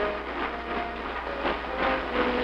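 A moving train in a 1940 film, a steady, loud rumble of rail noise with faint rhythmic swells and no talk over it.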